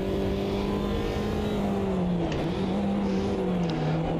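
DTM race car in Automobilista 2 at Mugello, with a loud, steady engine note that dips and rises as the throttle is blipped on a downshift, close and continuous.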